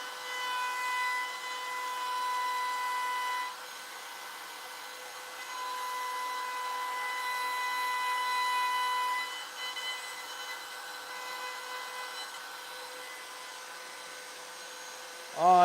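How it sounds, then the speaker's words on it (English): A blower hums steadily beneath a wood-carving bench, a faint continuous whine with a few tonal lines that shifts slightly in level and runs throughout, ending with a brief sharper sound. "Your blower's right underneath you,"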